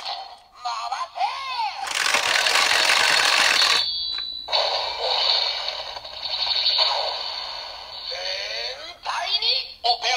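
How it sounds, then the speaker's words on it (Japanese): A DX Gear Daringer toy plays its Twokaizer mechanical transformation standby sound: loud electronic tones and sweeping chirps around a long, harsh burst of noise, with voice-like electronic elements. "全体にオペレーションでガコガコーンっていう機械サウンドなった"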